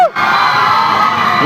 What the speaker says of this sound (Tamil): நீங்கள் இவ்வளோ பேர் வந்து இவ்வளோ ஆரவாரம் கொடுக்கறதுக்கு ரொம்ப ரொம்ப பெரிய நன்றி